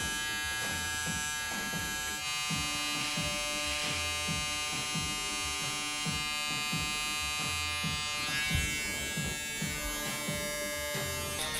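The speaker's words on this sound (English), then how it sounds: "I'm using this time that I have my trimmer on hand to line up the back here" An electric hair trimmer buzzes steadily and close up as a barber lines up the back of the hair and beard, its tone wavering as it moves, with no voices present.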